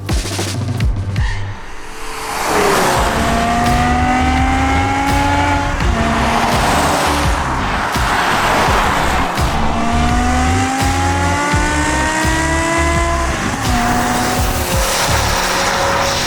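A high-revving BMW M5 S85 V10 engine with a manual gearbox screams loudly, its pitch climbing repeatedly through gear changes, with some tire noise, close and continuous.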